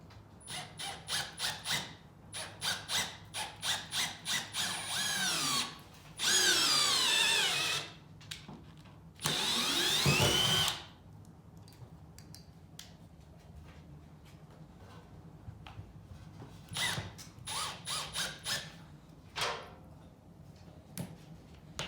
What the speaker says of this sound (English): I'm going to do 2 little pilot holes with the screw.